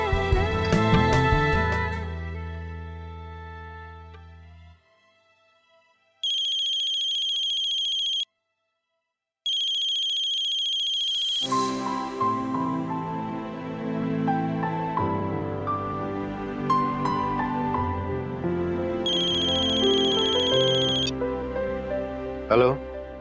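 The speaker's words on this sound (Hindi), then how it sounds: "लाओ, मैं फोन लगा देती हूँ।" A telephone rings out while a call is being placed, repeated electronic ring bursts with gaps of near silence between them, opening and closing under music.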